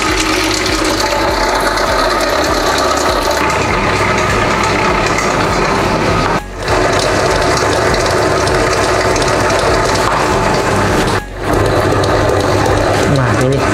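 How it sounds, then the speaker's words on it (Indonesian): An electric cake mixer beats batter at high speed for a layered domino cake, making a loud, continuous whirring and grinding drone with two brief dips where the motor sound cuts out momentarily. "Kita ganti dengan speed tinggi sampai dia mengembang"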